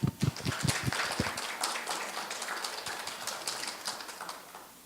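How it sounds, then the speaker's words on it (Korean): Applause from a forum audience welcoming a presenter at a development cooperation forum, a dense patter of clapping that starts with a few sharp claps and holds steady, moderately loud, with no talk over it. "그럼 박윤혜 대표님을 큰 박수로 맞아주시기 바랍니다"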